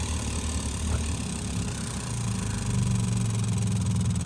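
A Lotus Elan sits with the ignition switched on while its fuel system pulls up petrol, giving a steady, low mechanical hum and drone that runs unbroken throughout, close by, with no talking.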